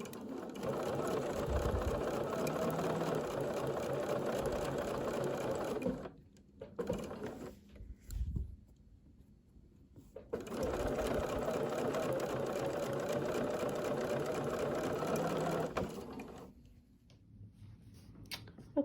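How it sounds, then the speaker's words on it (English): A sewing machine stitches quilt block pieces in two long continuous runs of close, steady mechanical whirring, separated by a pause with brief handling noises and a short burst of stitching. "Now I can feed the next one in just the same way, going slowly and carefully so that my sewing doesn't get off to one side."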